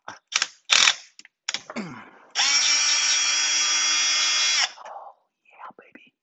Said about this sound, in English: We're gonna unbolt the refrigerant line from the sump now.